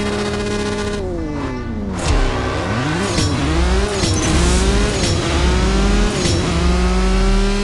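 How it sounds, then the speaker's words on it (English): Bugatti in CSR Racing 2, its game engine revving loud and harsh through repeated rising pitch sweeps as gears shift, a continuous close roar with no talk. "The Bugatti's noises, they have to be the ugliest noises in the whole game"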